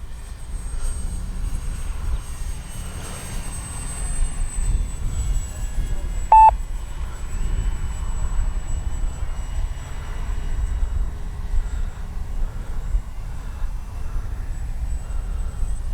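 A Kavan Bristell B-23 RC model plane flies overhead in a windy sky, its thin steady electric whine heard over gusty wind noise, with one short tonal beep partway through.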